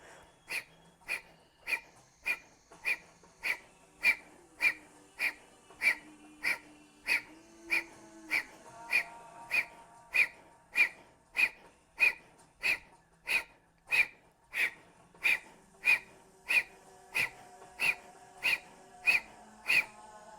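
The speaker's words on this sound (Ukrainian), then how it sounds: "Ми йдемо до нашого бажання і починаємо дихати" Quick, forceful breaths repeat in a steady rhythm during a focused breathing exercise, roughly one short puff per second, close and clear, with faint tones in the background.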